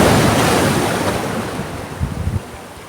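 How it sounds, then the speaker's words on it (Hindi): Ocean waves crash onto the shore in a loud, continuous wash of surf, with a fresh surge rolling in near the end. "लहरें तेज़ हो रही हैं"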